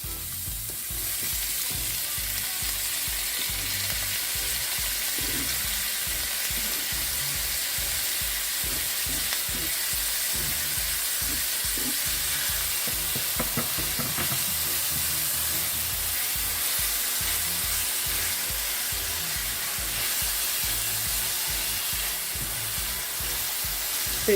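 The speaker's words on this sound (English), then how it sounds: "I'm gonna put my seasonings in just to get it sauteed" Seasonings sauté in already heated oil in a pot on the stove, a steady close sizzle and crackle that runs unbroken, with a faint spoon scrape partway through and no talking.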